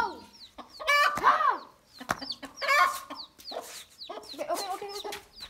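A hen with small baby chicks clucks loudly and agitatedly nearby in bursts of sharp, squawking calls, with faint chick peeps between them.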